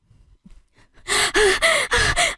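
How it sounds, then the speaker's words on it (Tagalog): A woman gasps and pants while crying, first several faint, shaky breaths, then four loud, strained voiced gasps in quick succession, close to the ear. "habang umiiyak at hingal na hingal"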